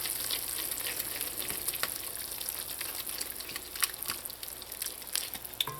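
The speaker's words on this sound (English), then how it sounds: "Once alcohol has been cooked out, you're going to go in with the flour and mix that in." Flour being stirred into a sizzling lobster chowder base in a pot after alcohol has cooked off, a soft steady fry with intermittent spoon scrapes and taps, close and without speech.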